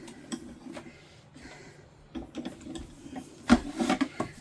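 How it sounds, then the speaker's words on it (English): An older manual die-cutting machine feeding a craft frame back through its plates, giving soft rhythmic ticking and creaking at low level that builds to a heavier clunk and grinding near the end, close by with no voices. "Now I'm going to bring it back through just to make sure, because it is an older machine, that my frame got cut all the way through."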